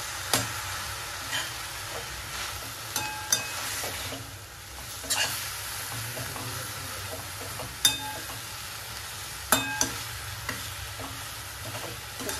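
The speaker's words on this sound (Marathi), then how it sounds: "छान परतून एकजीव करून घेऊया." Fenugreek leaves sizzle and fry in a pan while a utensil stirs and scrapes, with a steady frying hiss and intermittent sharp clacks of the spoon against the pan, and no voices.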